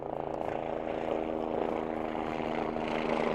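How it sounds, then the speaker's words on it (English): Helicopter passing overhead, a steady droning rotor and engine hum at moderate distance that holds evenly throughout with no speech over it. "there's a helicopter that comes and say hi"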